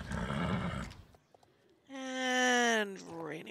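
A horse in the online riding game Star Stable Online rears and lets out a loud, clear whinny lasting about a second, preceded by softer game noise and hoof sounds.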